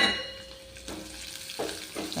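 Curry leaves sizzle and crackle in hot oil with coconut for a carrot erissery, with a steady frying hiss and a few scraping stirs of a spoon against the pan near the end.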